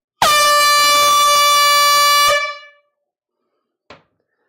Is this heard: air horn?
yes